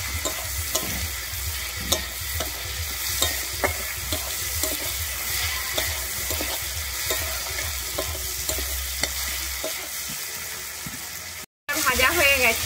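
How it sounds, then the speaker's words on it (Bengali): Chopped tomatoes fry with salt and turmeric in a pan for a banana flower curry, a steady close sizzle with periodic stirring scrapes and knocks, briefly cut off near the end. "আমি এর মধ্যে দিয়ে দিচ্ছি লবণ আর দিচ্ছি হলুদ, দিয়ে আমি টমেটোটাকে ভালোভাবে ভেজে নেব।"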